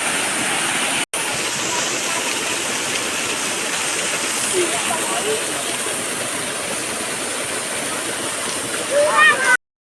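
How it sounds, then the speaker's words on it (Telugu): A village waterfall pours with a constant, dense rushing hiss, close and loud, and a brief bird-like chirp sounds near the end. "మేమైతే ఇప్పుడు ఈ వాటర్ ఫాల్ దగ్గర అయితే స్నానం చేస్తున్నాము"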